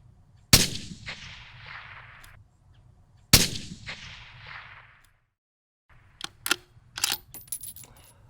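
Two sharp, loud rifle shots from a .243 Winchester Savage fired outdoors, about three seconds apart, each a hard crack trailing into a rolling echo, followed by faint clicks and rustles of handling.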